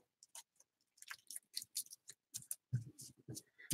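Scissors cut paper for a jumbo paperclip embellishment in a rapid series of short, crisp snips, close and fairly quiet, with no talk.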